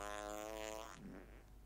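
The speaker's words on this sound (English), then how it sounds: "you are farting." A man's fart in a TV comedy scene, a long reedy buzzing tone that holds for nearly a second, then trails off into low rumble.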